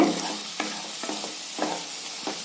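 Brinjal with coriander powder sizzles in hot oil for a vegetable kootu while a spoon stirs it, scraping the pan in several soft, regular strokes over a continuous frying hiss.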